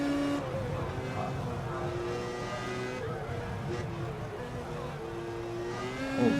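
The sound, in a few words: F1 2015 race car driving through 200R in rFactor 2 video game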